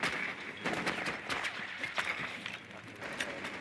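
Pistol fire in a competitive video game match, quick irregular shots popping at moderate distance through a steady background of game ambience, with no talking.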